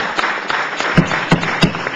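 Scattered applause and cheering from the audience at a congressional hearing on 9/11 health claims, heard as a few sharp, separate claps over a low murmur of the room.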